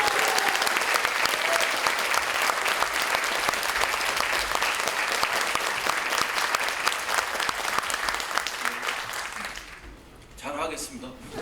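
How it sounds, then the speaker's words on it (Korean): Audience applause at a symposium on establishing a Sejong branch of the National Assembly, a loud, dense burst of clapping that fades out toward the end, followed by a voice beginning to speak. "큰 박수를 부탁드리겠습니다"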